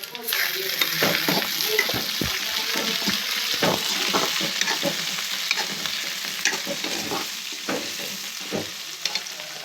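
Tomatoes frying and being stirred in a pan while cooking churmuri susla, a North Karnataka dish: a steady close sizzle with repeated spoon scrapes and stirring knocks, no voices.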